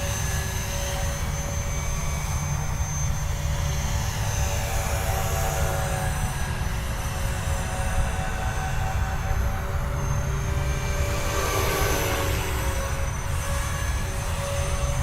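Align T-Rex 470LM RC helicopter on its maiden flight, a steady high-pitched whine of fast-spinning rotors with a constant rushing drone, loud and close throughout.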